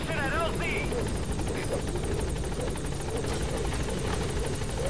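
A helicopter in Metal Gear Solid V lifts out from inside an offshore platform, its rapid rotor chop steady and fairly close under a low game backdrop.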